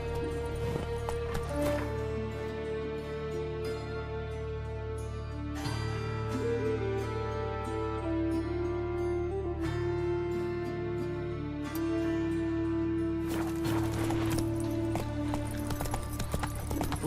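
Hooves of Roach, the horse in The Witcher 3, clop at a steady walking rhythm under a sustained musical score, moderately loud and continuous throughout.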